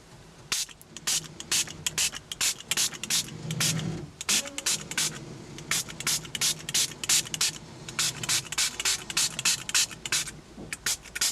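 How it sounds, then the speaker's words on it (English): Short repeated pumps of a hand water mister spraying onto a journal page, about twenty quick bursts in an irregular rhythm, close and fairly loud, with brief handling noise midway. "What I'm going to do now is I'm going to spray it with some water again."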